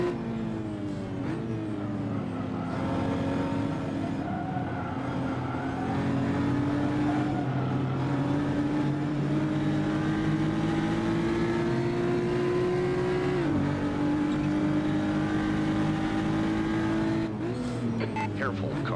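Several GT4 race cars roar around a circuit in Assetto Corsa, engines droning loud and steady with rising and falling revs through shifts, a voice talking over the pack.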